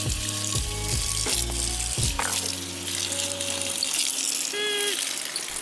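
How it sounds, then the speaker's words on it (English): An extendable-neck sink faucet in a van runs water to rinse mud-coated dogs, a steady, close gushing splash that lasts throughout, with brief clanks and tonal squeaks over it. "I took my sink extractable, extendable neck and tried to rinse them off"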